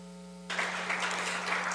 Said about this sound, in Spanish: Agradecemos a nuestros ponentes con un fuerte aplauso.